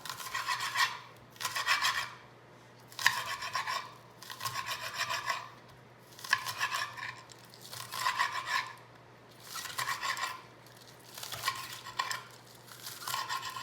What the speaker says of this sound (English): And I'm just going to chop some green onions.